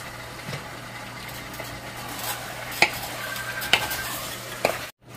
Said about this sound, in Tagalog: At imimix lang natin yan